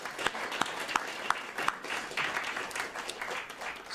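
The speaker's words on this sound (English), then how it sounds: "if I can give them a really big applause for all the work that they do" Applause from an audience at a talk on New York City public schools and tech, a steady wash of clapping with a few sharper claps standing out, filling the space without voices.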